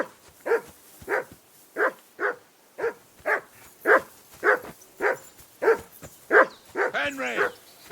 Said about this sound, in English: you can hear that damn dog of yours barking